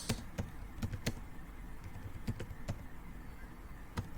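Scattered keystrokes on a computer keyboard, a few sharp taps at irregular intervals over a steady low background hum.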